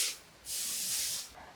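A spray bottle mists a potting soil mix of river sand and perlite in two hissing bursts, a brief one and then a longer one of about a second, close and alone.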